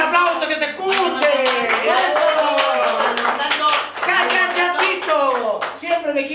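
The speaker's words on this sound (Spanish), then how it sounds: "Oye, un aplauso que se escuche." Studio audience clapping on a Chilean television set, sharp hand claps broken up and mixed under loud, close speech and laughter from hosts that dominate the whole stretch.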